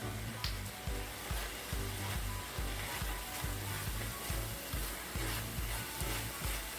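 Cabbage fries in a hot pan with a steady, loud sizzle and crackle, broken by a regular rhythmic scraping or stirring thump under the hiss; no voices.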